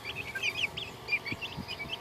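Americana chickens and a black Polish crested chicken cluck and chirp in a grassy chicken tractor, a close cluster of short, high calls and soft low clucks with no talking.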